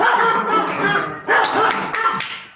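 Dogs bark in a few sharp, close bursts, yips and woofs clustered together over a couple of seconds, loud against a quiet indoor background.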